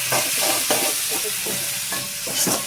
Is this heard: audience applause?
no